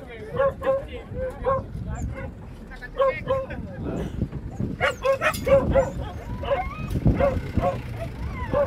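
Hunting dogs in a tea plantation in Pangalengan bark in repeated sharp bursts and yips during a chase, mixed with whimpers and rustling, while people talk throughout.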